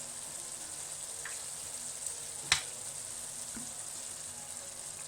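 Tomatoes frying in olive oil in a pan, a soft steady sizzle running throughout with a couple of brief sharper crackles and pops near the middle.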